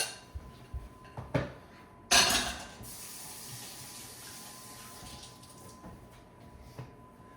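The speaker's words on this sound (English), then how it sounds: "Rinse my hands off." Hands rinsed under a running kitchen tap while baking zucchini chocolate chunk walnut muffins, a short burst of splashing water followed by a steady, moderately close flow with a few light knocks before it.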